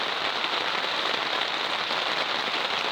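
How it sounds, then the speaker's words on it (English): Heavy rain runs and drips off the side of a polytunnel during a thunderstorm in Essex, UK, a dense, steady hiss of water hitting surfaces, loud and close throughout with no talk. "it indeed rained."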